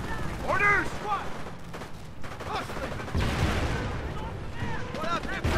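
Incoming enemy artillery fire in the World War II strategy game Company of Heroes, with booming impacts and gunfire rumbling under shouted soldier voice lines.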